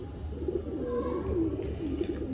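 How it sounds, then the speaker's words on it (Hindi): A Salara pigeon coos in low, repeated throaty phrases, close and steady across the whole stretch, with soft rustling underneath and no talking. "ये पूरा कबूतर है"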